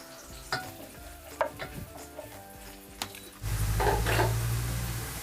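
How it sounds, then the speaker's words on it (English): Stew fries in oil in a pot, with a few scattered spoon clicks and stirring scrapes at first, then a sudden loud, steady sizzle that swells and holds close up. "So yeah, so I've been frying it for 2 minutes."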